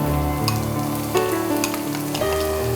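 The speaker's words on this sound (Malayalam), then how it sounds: "നിറം മാറി തുടങ്ങിയാലുടനെ സവാള, 2 വലിയ സവാള ചെറുതായി അരിഞ്ഞതും ചേർക്കാം." Two finely chopped onions hit hot garlic-infused oil in a pan, giving a loud, continuous sizzle and frying crackle with occasional stirring sounds, close by.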